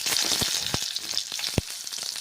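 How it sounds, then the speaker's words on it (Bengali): Eggplant pieces sizzle and crackle steadily in hot oil in a kadai with spices, with a dense hiss and several sharp pops standing out close by, no talking. "তারপরে বেগুনগুলো ভেজে নিচ্ছি"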